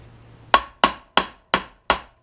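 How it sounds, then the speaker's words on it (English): Five sharp metallic hammer taps on a stub axle, driving it through during front suspension disassembly of a Frogeye Sprite, evenly spaced about a third of a second apart, each ringing briefly, close and clear with no talking. "I'm just going to hold that up and then just tap it through with the hammer"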